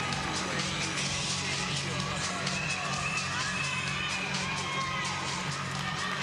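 Arena crowd cheering and whooping as the Greek team enters for the free combination at the Artistic Swimming World Series Super Final; a steady, lively roar of many voices, with a commentator's voice faintly beneath it.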